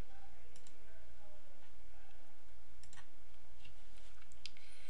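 Computer mouse clicks while editing text alignment in a CMS editor, a few faint sharp clicks scattered over steady background hiss, with no speech.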